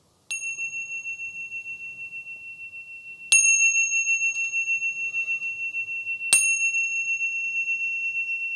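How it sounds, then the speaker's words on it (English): A meditation bell struck three times at even intervals, each ring a clear, sustained metallic tone that hangs and slowly fades, heard alone over near silence. "it's also nice to have a bell to signal to your brain, we're meditating now"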